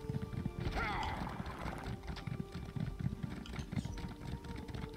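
Horse hooves clip-clop in Elder Scrolls Online, giving a steady rhythmic patter of hoofbeats at moderate loudness beneath game ambience, with a brief whinny-like tone near the start.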